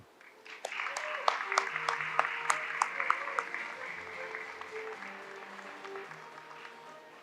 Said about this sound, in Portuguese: pedindo para vocês uma salva de palmas para a nossa indústria